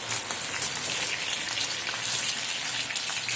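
Chili peppers fry in hot oil over a low gas flame, giving a steady, dense crackling sizzle that fills the whole stretch at close range with no talking.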